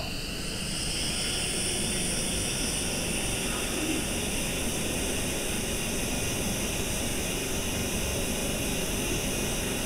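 An F-18 jet engine at full thrust in Real Flight Simulator roars steadily and loudly, a dense broadband rush with a high whine on top. No one speaks over it.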